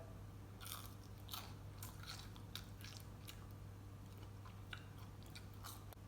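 Quiet close bites and chewing of food coated in barbecue sauce, a series of crisp crunches and soft squishy mastication spaced irregularly over a faint steady background hum, no talking.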